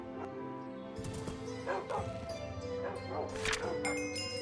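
A pack of dogs in the RLCraft Minecraft modpack barks and yips in short repeated bursts, close and busy, mixed with game sounds and a voice talking over them.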